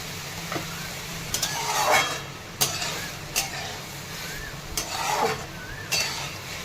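Chopped onions sauté in a pan for egg bhurji, salted and stirred. A spoon scrapes and clatters at a steady pace over a faint, continuous sizzle, with a few sharper knocks against the pan.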